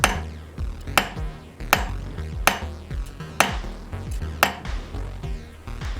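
Sharp metal hammer strikes on letter stamps driving into a sterling silver name tag, about nine ringing blows at a steady pace, close and loud with brief metallic decay after each hit.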